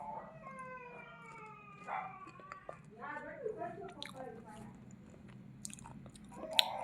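Soft, close chewing of a freshly made healthy ragi dosa, quiet and intermittent, with brief speech and a few higher vocal or background sounds in a hushed room.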